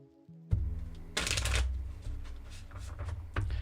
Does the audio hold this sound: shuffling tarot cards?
yes